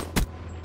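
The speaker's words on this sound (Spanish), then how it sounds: "Le di un par de tiros" A couple of quick gunshots in a shooter video game, one sharp burst standing out over a steady low background hum, brief and fairly close.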